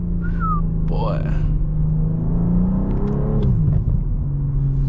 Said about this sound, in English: you can hear the turbo a little bit in here